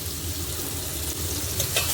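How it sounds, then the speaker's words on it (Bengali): Potato pieces fry with salt and turmeric in a pan, giving a continuous loud sizzle with crackling and occasional stirring scrapes. "নুন হলুদটা দিয়ে ভালোভাবে আলুটা ভেজে নেব"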